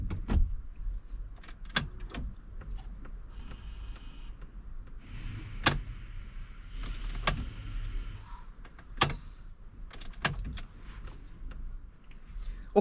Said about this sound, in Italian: Sentirete subito partire la pompa del gasolio e sentirete anche piano piano il portafiltro riempirsi